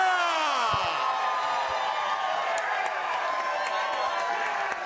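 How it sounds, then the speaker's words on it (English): Crowd applause and cheering at a San Diego Comic-Con 2018 convention panel, sustained clapping with whoops and yells, a voice rising over the start. "Keep that applause going for Courtney and Stefan"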